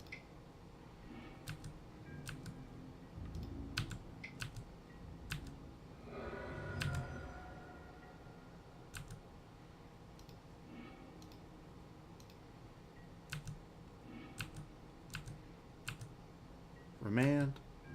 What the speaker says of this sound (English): Now it's just an exercise in clicking the right buttons.